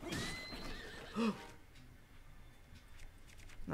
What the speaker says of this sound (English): I accidentally lit my horse on fire.